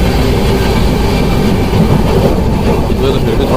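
Steady rumble and rattle of the 12565 Bihar Sampark Kranti superfast express running at night, heard from inside a 3AC coach, a continuous loud broadband roar with faint clatter and no talk.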